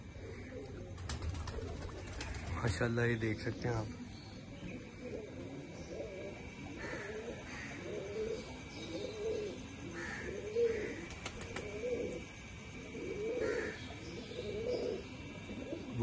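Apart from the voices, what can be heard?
pigeons cooing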